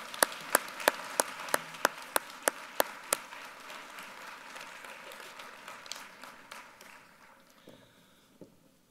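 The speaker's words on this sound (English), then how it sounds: "please join me in a big round of applause for the Life Science Alley staff" Scattered applause at a conference opening for the Life Science Alley staff: about a dozen sharp, evenly spaced claps stand out for three seconds over softer crowd clapping that slowly fades out, with no talking.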